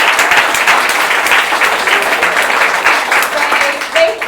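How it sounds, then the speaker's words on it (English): A crowd at a museum exhibit opening about a Civil War shipwreck claps warmly and loudly, a dense sustained applause close by with some voices mixed in. "So I think we can give them a warm round of applause."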